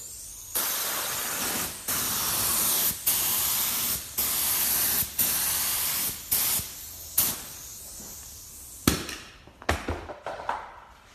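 Spray gun laying down a full wet coat, likely clear over a repaired panel: loud, steady broadband hissing in about ten long passes with short pauses between them, ending in a few shorter bursts.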